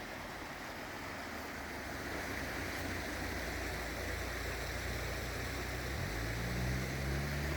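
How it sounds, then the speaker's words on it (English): A small cascade or waterfall spilling over rocks outdoors in Virginia, a steady broadband rushing wash that holds constant throughout with a low rumble building near the end. "there's a beautiful sounding cascade or waterfall there"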